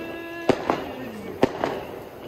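Neighbours' New Year fireworks burst outdoors in the UK, four sharp cracks in two pairs at a moderate distance, with a faint whistle trailing between them.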